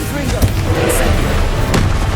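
Confringo and Incendio spell blasts in Hogwarts Legacy, a steady low booming rumble with a couple of sharp cracks, loud and close, with voice sounds mixed through.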